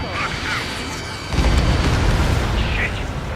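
A missile blast in the Ace Combat 7 flight combat game, heard as a heavy low boom that swells partway through over jet roar, with radio chatter voices around it.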